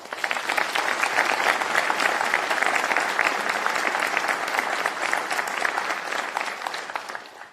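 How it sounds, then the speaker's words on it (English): A large audience applauds a newly sworn-in police chief at a swearing-in ceremony, dense steady clapping that stays loud and even for the whole stretch before tapering slightly at the end. "I think we need to give the chief a big round of applause"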